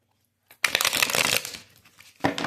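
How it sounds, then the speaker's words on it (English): Tarot cards are riffled in a quick, crisp burst lasting about a second, close and fairly loud, then a second short shuffle begins just after a brief pause. "One more shuffle."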